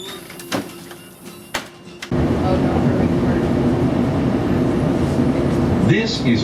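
Chicago Blue Line train bound for O'Hare near Irving Park: a few sharp clicks and knocks, then a loud, steady rumble of the moving train that carries on to the end.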